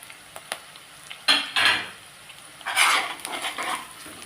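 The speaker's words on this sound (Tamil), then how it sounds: "இதை நல்லா ஒரு வதக்கிடுவோம்" Curry leaves, ginger and dried red chillies are stirred in a pan while making Kerala inji puli. A spoon scrapes and knocks in a few scattered clinks, followed by two louder bursts of sizzling and stirring.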